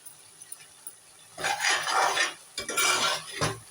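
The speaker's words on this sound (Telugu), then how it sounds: "కారం వేయకముందు టమాటా కూరలో కొత్తిమీర వేసుకోవాలి" A spoon clatters and scrapes against a pan while tomato egg curry with coriander is stirred, two busy bursts of metallic stirring after a few light taps, close and without talk.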